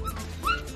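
A dog at a rescue centre in Spain that houses around 35 dogs gives a short, close whimpering yip lasting under a second.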